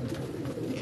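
Pigeons of the Ludhiana breed coo on a rooftop, a low, soft, continuous murmur of several birds close by, with no voices.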